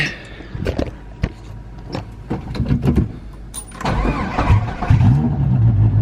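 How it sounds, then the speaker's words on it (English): A V8 engine starts cold on E85 fuel in a rear-wheel-drive Dodge Neon: clicks and cranking, then the engine catches and settles into a loud, rough idle close by. "E85 cold start."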